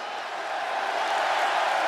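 Steady roaring crowd cheers fill an arena in the wrestling video game WWE 2K26 as a woman wrestler is welcomed, a dense, unbroken wall of noise lasting two seconds.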